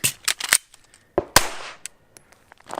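Sharp Sig Sauer P320 Spectre Comp pistol shots at close range, several loud cracks in quick succession, a pause during a reload, then another sharp shot followed by fainter clicks and handling noise.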